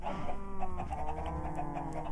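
Chickens cluck repeatedly in the Minecraft video game, a soft, steady stream of short game-sound clucks with no talking.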